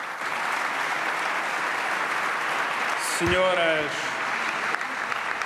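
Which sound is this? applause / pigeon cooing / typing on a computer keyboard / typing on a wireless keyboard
applause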